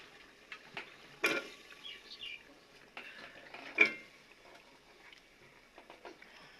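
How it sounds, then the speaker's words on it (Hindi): Soaked potatoes tipped into a cooking pot in a home kitchen, giving two sharp clattering knocks and a few lighter taps against the metal, close and fairly quiet, with no voices. "तो जी ये मैंने आलू भिगो के रखे हुए थे, अब इसे डाल देते हैं।"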